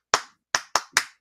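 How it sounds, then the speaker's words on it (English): Four sharp hand claps played as a sound effect: one clap, a brief pause, then three in quicker succession, crisp and close with short decays and no talk. "I had to, because that just deserved the clap"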